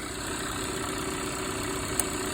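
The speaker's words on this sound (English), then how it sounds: "So right now we're idling." A car engine idles steadily in a workshop during an ignition test with cylinders about to be disabled, a continuous low hum with one brief click near the end and no voices.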